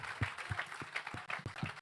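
Brief scattered applause from a small comedy roast battle audience, a handful of separate claps, faint and sparse rather than a full ovation.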